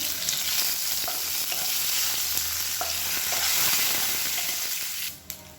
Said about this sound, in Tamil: கடுகு உளுந்து எல்லாமே நல்லா பொரிய ஆரம்பிக்குது